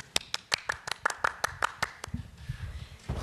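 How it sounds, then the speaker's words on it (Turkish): A small group claps for the orchestra on a Turkish music show, about a dozen crisp, evenly spaced claps that dissolve into looser scattered clapping and low murmuring. "Orkestra bir alkış yapalım mı o zaman?"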